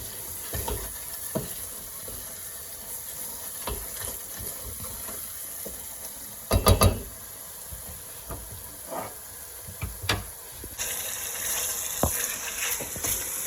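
Achari chicken sizzling and frying with spices in a pan while being stirred, a steady close sizzle with occasional louder scrapes and clatters, no talking.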